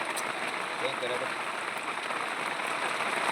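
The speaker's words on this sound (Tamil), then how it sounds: "கொட்டி தீர்த்த கனமழை" Heavy rain pours down on a village, a continuous loud hiss of downpour with a faint voice or two beneath it.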